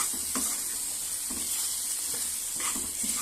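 Green chili chutney sizzling and gently bubbling in a pan, a steady hiss with a few soft stirring scrapes, close and continuous with no talking.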